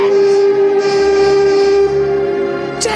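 A tugboat's steam whistle blows one loud, sustained, tonal blast that holds steady for about three seconds, close and dominant with no talk over it.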